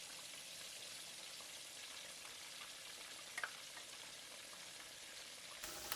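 Curry leaves sizzle and crackle in hot oil while frying for a fish curry dish, a steady hiss throughout, with a couple of faint clicks from a stirring utensil.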